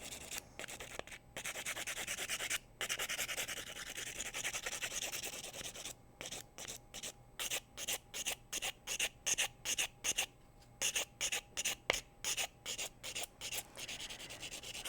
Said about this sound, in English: let's just file the surface now while we have it on here